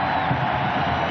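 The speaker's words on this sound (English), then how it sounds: "a huge cheer there for the strikers captain" Crowd cheering for the Brisbane Strikers captain at a football grand final, a broad sustained roar of stadium voices, steady and fairly loud for the brief moment.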